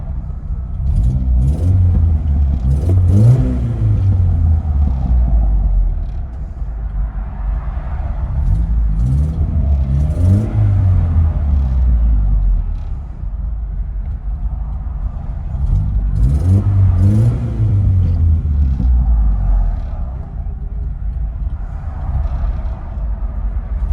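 Inside a 1989 Geo Tracker, the 1.6L engine with loud side exhaust and a loose resonator revs up and settles repeatedly, deep and throaty, three swelling pulls with no talking.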